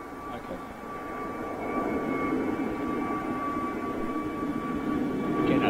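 An EasyJet Airbus A320neo jet passes at Gatwick Airport, its engine roar a broad, steady rumble with a faint whine. The sound builds slowly in loudness over a few seconds, heard from a distance.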